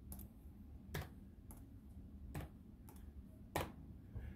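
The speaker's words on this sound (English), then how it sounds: "type in the universes that I want" Keys on a computer keyboard being typed in short, separated bursts of clicks, a handful of sharp taps spread out with pauses between them, quiet and close, with no talking.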